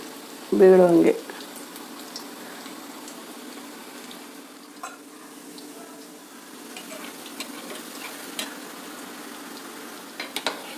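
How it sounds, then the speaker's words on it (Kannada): Hyacinth bean snack batter fries in oil over low flame: one brief loud sound at the start, then a faint, even sizzle that carries on alone. "ಇದು ಫ್ರೈ ಆಗೋದಕ್ಕೆ ಸ್ವಲ್ಪ ಟೈಮ್ ತಗೊಳುತ್ತೆ"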